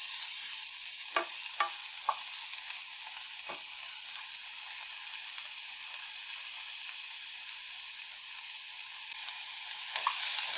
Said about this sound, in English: The salt pork will whiten, then be browned, but we are going to take it to the ultimate level until it becomes red.